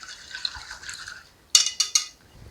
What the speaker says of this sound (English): we're going to strain this back into a saucepan